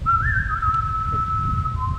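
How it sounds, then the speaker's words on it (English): A man gives a long signal whistle outdoors at a hunt site, a single sustained tone with a brief rise near the start and a slight drop at the end, heard over a low rumble of wind. "So when the guy whistles, you gotta go, whether you're ready or not."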